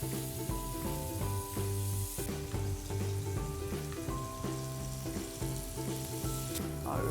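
Fish fillets fry loudly in a pan just after being flipped, a dense, constant sizzle and crackle close by, with music playing underneath.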